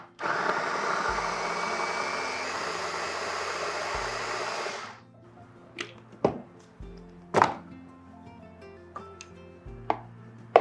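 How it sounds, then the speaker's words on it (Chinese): A food blender grinds stir-fried, golden-browned ingredients for a vegetarian pickled-cabbage fish dish, running loud and steady for about five seconds before stopping, followed by scattered sharp knocks and clatters. "我们用食物搅拌器把它搅碎"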